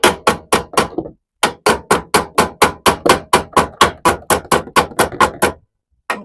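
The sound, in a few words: hammering on a Sprinter van fender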